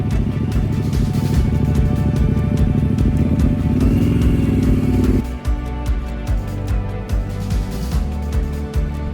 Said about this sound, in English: The Ducati XDiavel is a 2-valve with no valve springs, so it can rev to high RPMs without valve float.